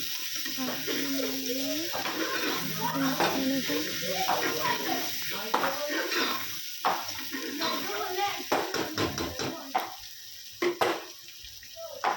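Onion, tomato and fried potato frying in a pan make a soft sizzle, with scraping stirs and clinks from the utensil at close range, while a voice speaks at times.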